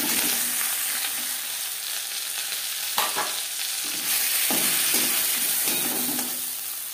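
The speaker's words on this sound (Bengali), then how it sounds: "মাছের মাথা একটা সাইড ভাজা হয়ে গেলে অপর সাইডটা উল্টে দেব।" A katla fish head frying in oil in a pan gives a loud, steady hissing sizzle up close, with a few brief spatters and crackles breaking through, and no talk.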